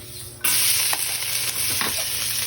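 Garlic hits a hot pan for sautéing and sets off a sudden loud, steady sizzle, with a few scrapes of stirring close by.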